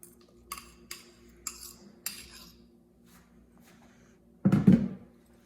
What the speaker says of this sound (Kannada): ಇವಾಗ ಮುಷ್ ಮಾಡ್ಕೊಂಡಿರೋದನ್ನು ನಾನು ನಮ್ಮ ವೆಟ್ ಇಂಗ್ರೀಡಿಯೆಂಟ್ಸ್ಗೆ ಹಾಕಿ ಎಲ್ಲ ಮಿಕ್ಸ್ ಮಾಡ್ತೀನಿ.